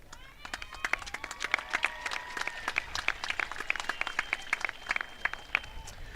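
Uneven applause with distinct individual claps at a high school graduation ceremony, with voices murmuring underneath in the background.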